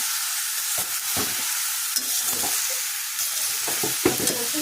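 Potatoes, beans and aubergine fry in a pan, hissing with a loud continuous sizzle while a utensil scrapes and knocks through them in irregular stirring strokes.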